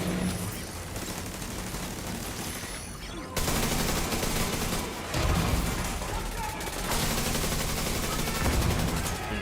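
Gunfire in The Division 2, dense bursts of automatic rifle fire and rapid shots rattling almost nonstop, loud and close, with a voice faintly underneath.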